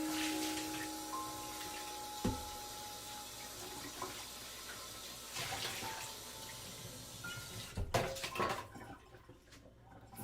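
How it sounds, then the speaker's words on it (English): A pan is rinsed under a running tap, with a faint, steady water stream, a couple of soft clunks of the pan, and a louder splash and clatter near the end. "Let's do a quick rinsey of the pan"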